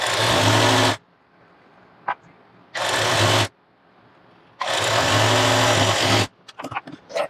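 A sewing machine stitches a blouse armhole in three loud runs of rapid stitching, the last one longest, separated by near-silent pauses.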